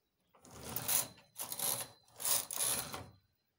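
A knitting machine carriage makes three mechanical sliding passes for two rows of stitches on a border design. Each pass is a rasping whir of about a second, separated by short pauses, close and moderately loud with no voices.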